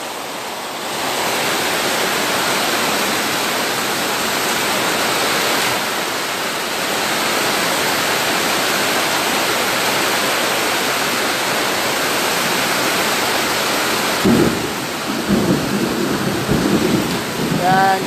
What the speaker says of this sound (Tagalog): Yan, lumalakas na ulan.